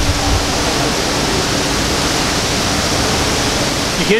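A homemade scuba tank, filled to capacity, vents air in a loud, steady broadband hiss that runs for several seconds close by, with a faint voice briefly near the end.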